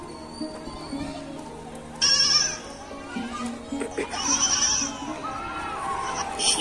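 During a children's stick puppet show, a performer's voice imitates a goat kid bleating in a couple of short, wavering cries amid storytelling and light room noise.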